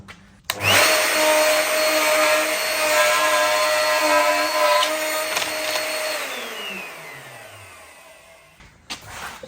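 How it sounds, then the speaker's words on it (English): Router on a jig milling a mortise into a wooden door frame, a loud steady high whine running several seconds before winding down as the motor coasts to a stop, close up with no talk. "clamp it on, and that will mill that down to the same depth as that rebate"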